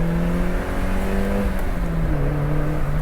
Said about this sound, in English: Rev match down, so I'm going to go down to second.